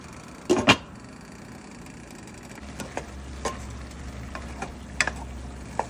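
Chopsuey vegetables stirred in chicken broth in a pan, with a couple of louder spoon knocks at the start followed by scattered light clinks and a low simmering hiss.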